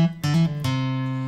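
Acoustic guitar plays a song's bass-line ornament: a few plucked low notes in quick succession, then a sustained ringing chord, close and clear with no talking.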